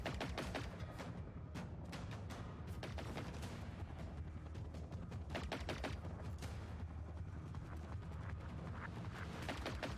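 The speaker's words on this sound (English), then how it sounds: "It is shooting me through the boards." Enemy machine gunfire in the video game Generation Zero, a dense, loud barrage of rapid sharp shots and impacts that continues almost without pause.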